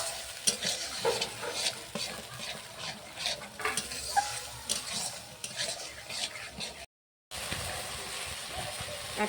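A fried rice spice mix with turmeric is stirred in a hot pan, the spoon scraping and clinking against the metal over a continuous close sizzle, with one brief dropout of sound.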